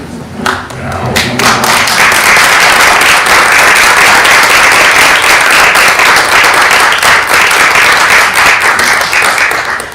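A room of people at a school board meeting breaks into sustained applause for the nurses, a dense wash of clapping that starts after a few early claps and holds steady and loud to the end.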